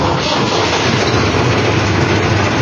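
A tractor engine roars loudly and steadily at close range, a dense, continuous mechanical rumble with no pauses.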